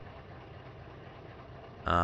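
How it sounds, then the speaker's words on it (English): An old Mack truck engine in American Truck Simulator, hauling a 13-ton load, gives a low, steady drone. Near the end a sudden louder tonal blast cuts in. "I like the sound of the engine on it."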